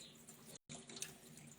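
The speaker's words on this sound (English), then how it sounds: "And what you can do is just slowly tip the water out." Rice rinsing water being slowly tipped out of a pot in a kitchen while cooking spinach rice, a soft, steady trickle and splash that pauses briefly and then resumes close by.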